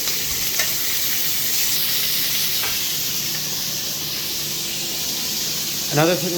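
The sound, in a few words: chicken frying in pan, flipped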